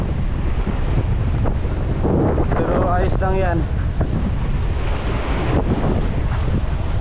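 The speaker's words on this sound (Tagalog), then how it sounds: "Medyo malakas na naman yung hangin" Strong wind buffets the microphone in a constant roar, with water sloshing nearby and someone speaking briefly midway.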